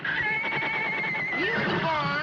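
A horse whinnies in a radio comedy, a loud, close, wavering neigh that rises and then falls over about two seconds, alone with no talk.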